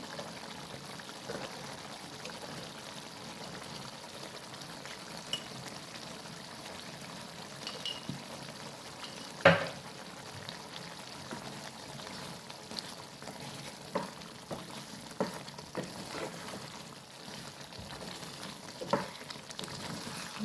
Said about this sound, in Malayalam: തുറന്ന് വെച്ച് നല്ലോണം വഴറ്റി കൊടുക്കണം